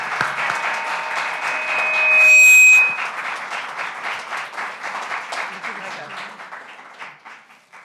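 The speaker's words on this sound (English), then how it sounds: "for a round of applause for our school board." An audience at a school board meeting claps for the board, a dense burst that swells briefly around a tonal beep, then thins and fades into scattered claps.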